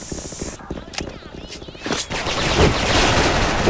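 Gunfire in the online shooter SF (Special Force), with the G3 rifle: a few sharp, separated shots early, then denser rapid fire and game noise. Someone talks over it.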